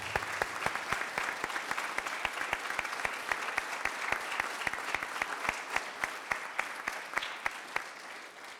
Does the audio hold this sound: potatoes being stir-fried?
no